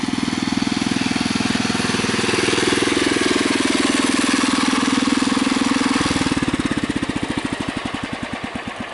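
A Husky 600 engine with a bad oil seal runs steadily at close range, a loud continuous mechanical drone that shifts to a slower, choppier pulsing partway through as the revs change.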